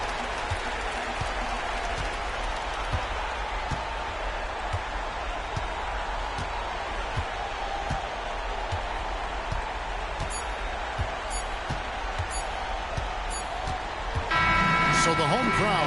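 Home crowd in the NCAA 2K25 basketball video game, a continuous roar of cheering and applause with ball bounces and squeaks underneath, loud and steady throughout.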